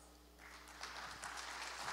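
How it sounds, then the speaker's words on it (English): Audience applause welcoming a speaker at a technology and smart-city innovation forum, a fairly faint patter of clapping that swells gradually and stays steady, heard alone without talk. "please welcome with a big round of applause"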